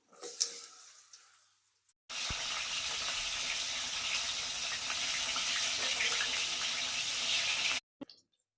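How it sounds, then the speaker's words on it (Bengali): Pieces of pointed gourd (potol) hit hot oil in a pan and set off a loud, steady sizzle that holds for several seconds before stopping abruptly, with some quiet handling noise before it starts. "এবার আমি পটলটাকে ভেজে নেব।"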